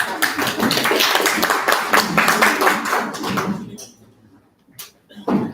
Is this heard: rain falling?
no